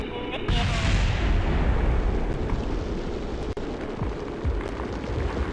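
Video game explosions from a Kerbal Space Program craft breaking apart: a sudden heavy boom followed by a continuous rumbling roar with scattered thumps.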